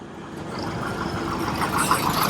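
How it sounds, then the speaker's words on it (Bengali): A diesel generator runs at a power house on Havelock Island in the Andamans, a steady, close, droning engine rumble with no break. "ডিজি চলছে, বোঝা যাচ্ছে যে ওপর দিয়ে ধোঁয়াগুলো আসছে, আর আওয়াজও হচ্ছে ডিজির"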